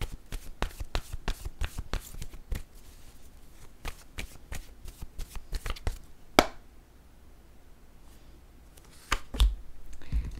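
Cards from a deck of word cards handled and shuffled, a rapid string of crisp flicks and snaps for several seconds, then a quieter pause before a few more sharp card slaps.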